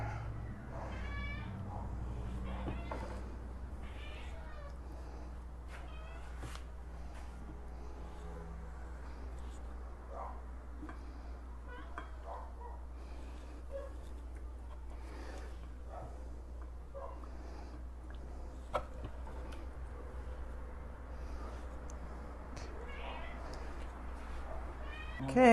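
A cat meows repeatedly in a kitchen while chicken is being prepared, short scattered cries over a low steady hum, moderately close, with occasional speech around them.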